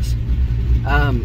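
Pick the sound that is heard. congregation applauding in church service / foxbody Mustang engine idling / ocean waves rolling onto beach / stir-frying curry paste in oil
foxbody Mustang engine idling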